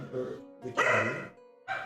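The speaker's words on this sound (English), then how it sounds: "You hear dogs in the background?" Dogs bark in the background in a few short, sharp bursts, with one longer loud bark in the middle, heard at a moderate distance.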